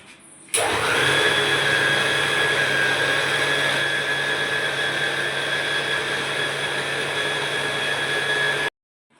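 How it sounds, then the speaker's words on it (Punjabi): An electric kitchen mixer grinder blends milk with Parle-G biscuits, switching on abruptly into a loud, steady motor whine that holds for about eight seconds before cutting off sharply. "ਹੁਣ ਆਪਾਂ ਮਿਕਸੀ ਚਵਾ ਦੇਵਾਂਗੇ"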